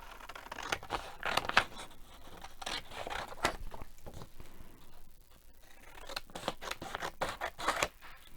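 Scissors cut out paper with quiet, close snips and rustles coming in uneven clusters, with brief pauses between the cuts.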